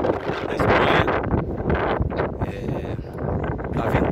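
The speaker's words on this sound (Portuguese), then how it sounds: "Tá ventando um pouco aqui" Wind blowing outdoors in Aguilar de Campoo, Spain, gusting against the microphone in loud, uneven rumbling bursts that carry on throughout.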